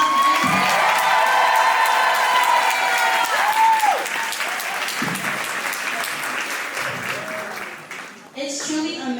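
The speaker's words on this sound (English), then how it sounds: "So if we give them a round of applause." Audience applauding at a student fashion show, loud sustained clapping with scattered cheers and whoops that fades somewhat, then brief voices as a new sound enters near the end.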